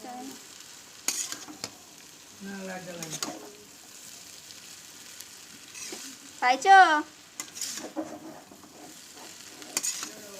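Chowmein noodles are stir-fried with vegetables in a pan, with intermittent scraping and tossing strokes over a soft sizzle and brief metallic clinks, while a voice speaks quietly at times.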